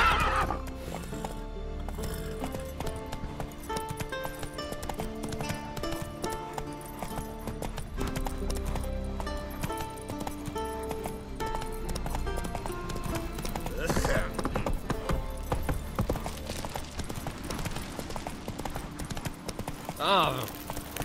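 Horse hooves clip-clop at a gallop with repeated whinnies in The Witcher 3: Wild Hunt, a steady rhythmic run with game music and voices mixed in.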